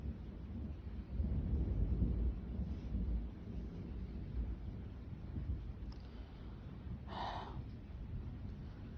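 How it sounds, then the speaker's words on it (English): Low, heavy rumble of thunder during a severe night thunderstorm, a broad sustained roll swelling around the second mark and lingering, with wind buffeting the microphone and a brief breathy sound near the end. "And then the loud thunder."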